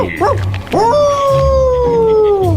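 A wolf howl, heard in a radio commercial, rises into one long sustained wail that slowly falls in pitch, loud and close, after a short yipping start.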